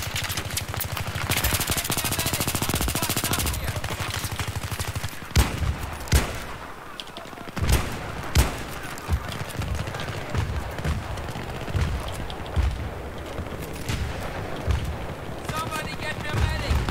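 Rapid bursts of AS VAL gunfire in a Battlefield 3 Rush match at Talah Market, with dense automatic fire and sharp individual shots over a busy battle din, while someone talks through it.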